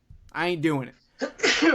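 A single sharp sneeze sounds close to the microphone, surrounded by someone talking.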